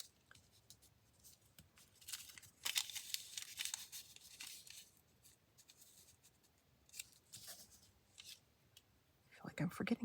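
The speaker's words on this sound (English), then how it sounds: "Let's tear on the tree trunk here." Paper torn by hand to shape a tree trunk for a papercraft project, heard as close, crisp rips and rustles: a dense tearing burst early on, scattered shorter tears and crinkles afterward, and another sharp rip at the end.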